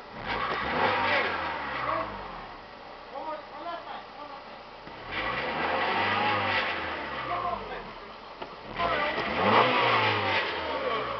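A 1996 Honda Civic CX engine runs and revs in three rising and falling swells, loud and close, with mid-pitched engine tones climbing and dropping between idle stretches.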